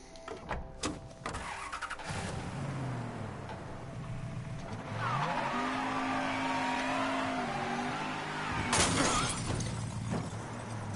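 A car in Mafia 3 revs and swings around, its tires squealing in a rising, drawn-out whine over a steady engine drone, with a sharp crash of impact noise later on.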